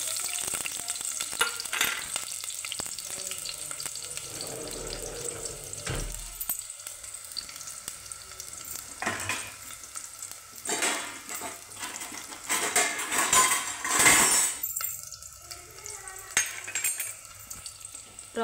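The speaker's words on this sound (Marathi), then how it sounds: "त्यात आपण आता कांदा टाकून घेणार आहोत। ब्राऊन होईपर्यंत तळायचा।" Onion frying in oil for a drumstick vegetable curry, a continuous sizzle with intermittent stirring scrapes and clatter against the pan, fairly close and steady throughout.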